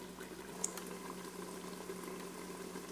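Sweet jackfruit preserve boiling in a pot with its lid partly on, a steady low bubbling simmer heard close and fairly quiet, with no one talking.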